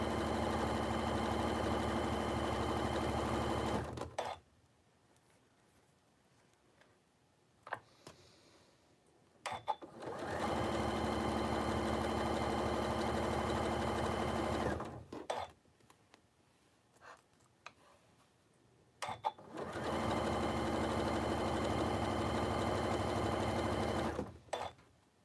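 A sewing machine runs in three long, steady stretches, each a continuous mechanical whir lasting several seconds, separated by near-silent pauses with faint handling noises.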